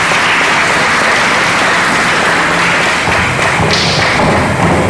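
Congregation applauding inside St. Michael parish church after Mass: a loud, dense, steady wash of many hands clapping for about five seconds, with a few heavier thumps mixed in and no voices.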